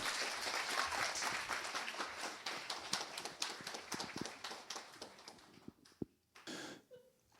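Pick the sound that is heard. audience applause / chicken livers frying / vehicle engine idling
audience applause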